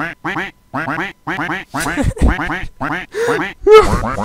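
A Roblox game duck quacks over and over in quick, loud, close bursts, a rapid string of cartoonish quacks with short gaps between them.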